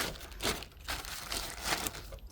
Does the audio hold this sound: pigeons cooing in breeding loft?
no